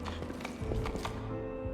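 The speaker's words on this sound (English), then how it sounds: "So let's jump on our horse and let's move on." Horse hooves clip-clop in Wrath of the Righteous, a steady run of soft thuds lasting under two seconds over a dense game soundtrack, fairly quiet with no speech.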